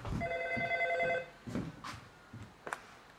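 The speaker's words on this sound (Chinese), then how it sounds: "都要走了，咋还有电话？" A telephone rings with a bright electronic trill that lasts about a second, followed by soft movement and a few faint clicks and thumps, all quiet and close with no speech.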